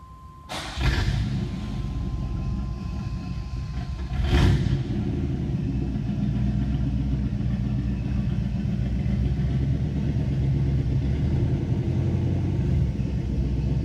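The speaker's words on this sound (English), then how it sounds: "Matt, why don't you fire it up? Because it has a full chambered exhaust on it too." A 1987 Camaro IROC-Z V8 with a full chambered exhaust cranks over and fires, settles into a deep, loud rumbling idle, then gets a sharp blip of the throttle around four seconds before holding a steady heavy idle, close by.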